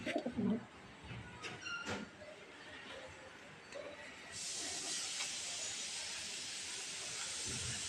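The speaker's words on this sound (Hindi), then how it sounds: "अभी नए कबूतर लेके आया हूँ।" Rampuri pigeons give a low, soft coo near the start, followed by scattered faint calls and a steady hiss that grows louder in the second half.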